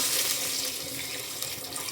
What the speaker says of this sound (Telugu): కొద్దిగా వాటర్ అయితే వేసేసాను